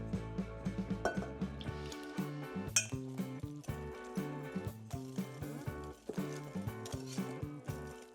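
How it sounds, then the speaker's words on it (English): A whisk beating egg and milk into dry ingredients for bungeoppang batter, a quick, steady run of ringing metallic clinks against a bowl, close and fairly loud, with no talking. "Now I'm gonna add the wet ingredients to the dry ingredients and I'll whisk them together"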